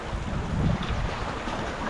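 Strong seaside wind roars steadily across the microphone with broadband rushing noise, likely mixed with surf near the shore at high tide, continuous and fairly loud with no voices.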